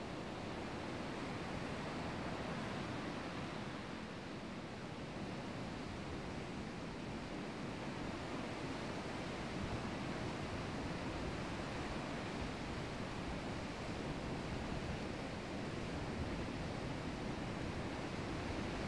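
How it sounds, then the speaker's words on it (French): Gentle ocean waves wash in a steady, soft broadband rush, continuous and unbroken, with no voices over it. "au rythme du doux bruit des vagues"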